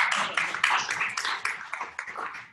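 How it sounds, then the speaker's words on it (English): An audience at a tech meetup claps together in a brisk, dense burst of close hand claps that lasts a couple of seconds, with a few individual claps standing out toward the end. "You may clap."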